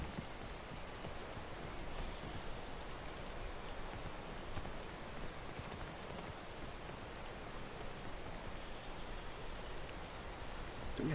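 Steady rain in a vanilla video game, a constant even hiss of falling drops that carries on unbroken at moderate volume, with no talk.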